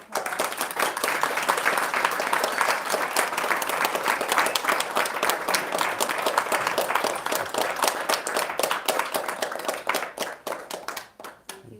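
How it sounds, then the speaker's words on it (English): Sustained round of audience applause at the Bhakti Center in New York after a talk, dense and even clapping from a sizeable crowd that holds steady for about ten seconds before tapering off. "let's give a round of applause."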